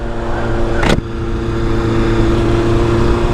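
Loud, close engine of a 1998 Yamaha R1 motorcycle accelerating in second gear, a sharp roar with a brief high whine near the start, then a steady strong drone.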